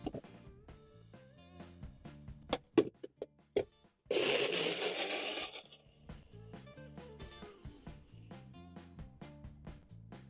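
A small blender pureeing tomatoes whirs loudly for about two seconds in the middle, with scattered kitchen clatter and tonal chimes before and after the burst.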